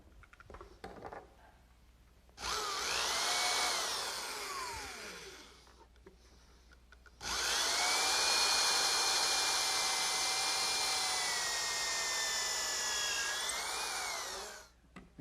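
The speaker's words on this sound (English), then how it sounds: "I'll drill a pilot hole with a counterbore for some screws." A power drill bores a pilot hole with a counterbore into wood, whining in two loud sustained bursts with a short pause between them, and no talking.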